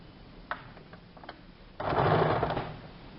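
Sewing machine stitching salwar fabric for a semi-Patiala salwar, a few soft clicks and handling noises first, then a steady loud whirring run of stitching near the end.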